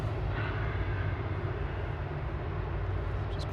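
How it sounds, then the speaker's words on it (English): An airliner's engines run at ground idle at Manchester Airport, a steady, loud low roar with a rushing hiss that holds constant throughout, heard alone with no voices. "they're doing the inspection with both engines at ground idle"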